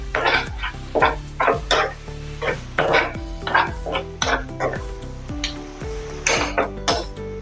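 A spoon repeatedly scrapes and clinks against a pan while potato curry is stirred with chilli, coriander, turmeric and salt. The knocks come close and rhythmic, about one or two each second, over a faint background.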